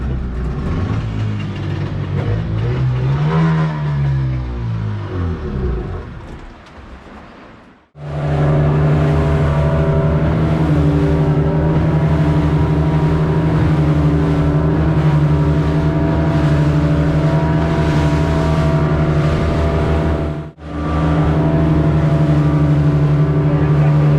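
A boat motor having trouble, revving and changing pitch at first, then cutting out before starting again into a steady loud drone that briefly drops out once more later.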